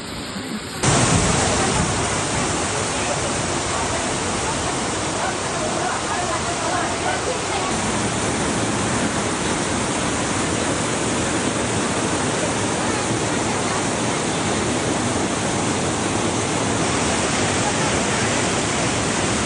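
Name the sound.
heavy cloudburst-like rain and flowing flood water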